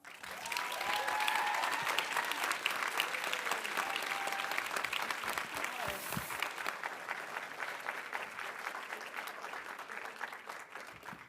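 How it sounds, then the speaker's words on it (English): A large audience applauds continuously, a dense sustained clatter of clapping with occasional faint cheers, tapering slightly toward the end. "Can we just give another round of applause?"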